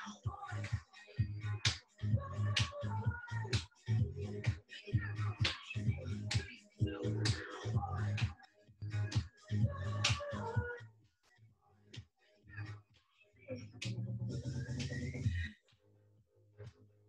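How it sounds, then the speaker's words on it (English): Sharp hand claps repeat in a rhythmic pattern during clap crunches in a live workout session, each clap crisp and close, while an instructor's voice talks over much of it. "We clap."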